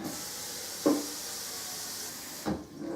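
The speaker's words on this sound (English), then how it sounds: "We're going to fill this with water." Tap water rushes steadily into a large pot for boiling noodles, a hollow hiss broken by two soft clunks before the flow cuts off.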